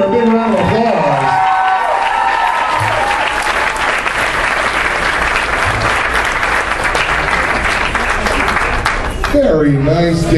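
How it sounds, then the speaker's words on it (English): Audience applause at a convention costume contest, a sustained loud burst of clapping from a crowd, with someone speaking briefly at the start and end. "Let's give her a big round of applause."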